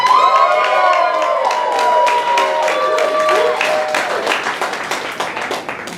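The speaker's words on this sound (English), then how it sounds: "If you think it's trash, make some noise for Joshua." A live studio-style audience at a trash-or-treasure contest erupts in loud cheering, whoops and clapping, a dense crowd roar that gradually thins toward the end.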